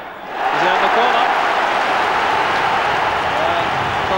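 A huge home crowd at Tannadice during a Dundee United match swells into loud, sustained applause and cheering that carries on steadily for several seconds.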